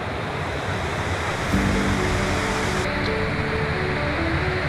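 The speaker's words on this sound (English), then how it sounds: "Here we are, the beautiful waterfall." A waterfall on a North Devon woodland walk gives off a loud, steady broadband roar of rushing water, constant and close.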